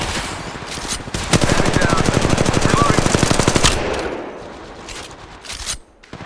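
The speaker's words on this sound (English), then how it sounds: "They're shooting at me!" Rapid automatic gunfire rips through a battle royale match on Kings Canyon in Apex Legends Mobile, a loud, tightly spaced burst of shots that runs for a few seconds before thinning out into scattered bangs.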